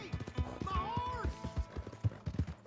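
Horse hooves clip-clop at a steady walking pace in Red Dead Redemption 2, with a brief whinny partway through, heard under quiet talk in Spanish.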